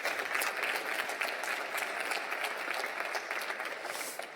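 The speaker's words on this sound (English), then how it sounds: "Great round of applause for Martin and Sabine." Steady applause from a conference audience, even and sustained for several seconds at moderate level before easing off slightly at the end.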